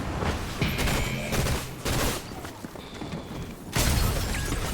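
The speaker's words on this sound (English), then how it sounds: "I fucking hate that shotgun" Shotgun blasts in Fortnite, several loud bursts spaced a second or so apart amid busy game effects, with a long heavy blast near the end.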